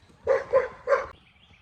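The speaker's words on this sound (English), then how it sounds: "Dog went crazy. Somebody was walking down the back alley." A dog barks three times in quick succession, loud and close, reacting to someone walking along a back alley, then falls quiet.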